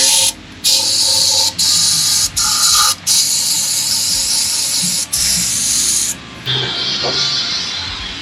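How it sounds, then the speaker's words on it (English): Bypass shock tubes are sprayed out during a shock rebuild, a loud, close hissing jet delivered in several bursts separated by brief pauses, ending in a softer, rougher spray. "Try to spray some of the tubes out too"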